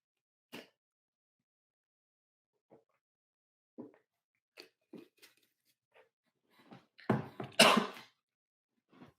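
A person coughs several times during a pause in a technical talk, sparse faint bursts building to a louder, harsher cough cluster near the end, with no speech.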